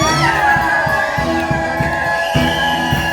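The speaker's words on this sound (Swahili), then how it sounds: "Tusimame shangwe na vigelegele nipate." A crowd at a pre-wedding celebration cheers and ululates in a loud, sustained chorus of high trilling voices and shouts close by, with rhythmic drumming underneath.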